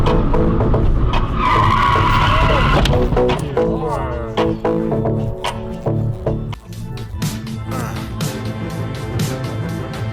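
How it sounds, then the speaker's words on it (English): A black Opel turning left across fast-flowing traffic collides head-on with an oncoming car, with a loud, sustained tire skid running through the clip over a dense, tonal background. "He went head-on with the car trying to turn left, and the accident was a disaster."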